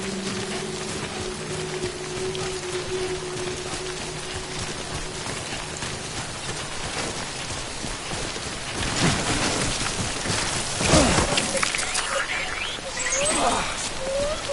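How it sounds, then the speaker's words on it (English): Steady rain falls in a video game, a broad hiss throughout with heavier gusts and a rumble of thunder near the end, while a voice speaks over it. "Good thing it was raining."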